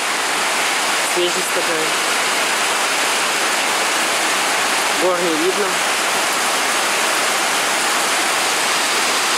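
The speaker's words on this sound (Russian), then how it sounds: "у нас льет дождь. Смотрите, какие огромные крупные капли. Прям ливень." Heavy rain pours down in a dense, constant hiss close by, while someone briefly speaks twice over it.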